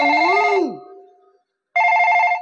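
A telephone ringing in a comic stage performance: a loud electronic ring burst, a pause, then a second burst of the same repeating tone, with no talk over it.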